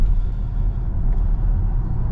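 Skoda Enyaq RS Coupe electric SUV, a 300 hp model, being driven hard through bends, with a steady low road and tyre rumble that holds at moderate loudness and has no voices over it.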